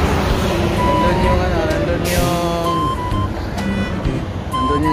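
Trucks and other vehicles passing on a highway in Camarines Sur, a continuous rumble with rising and fading engine noise and a few tonal horn-like notes, heard under a person talking.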